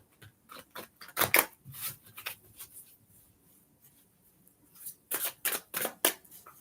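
Tarot cards get shuffled in a few quick riffling bursts, close and soft, with pauses between the bursts and no talk.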